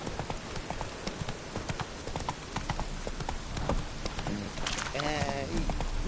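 Roach, the horse in The Witcher 3, gallops in a steady, rapid clip-clop of hooves throughout, with a short voiced cry near the end.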